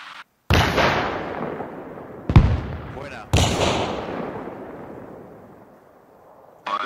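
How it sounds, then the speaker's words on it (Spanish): A launcher fires in Arma Reforger with the RHS mod, giving two heavy blasts, each followed by a long rolling echo that fades slowly, with a sharper crack between them. "Rufo, prepárate tú para disparar el lanzador."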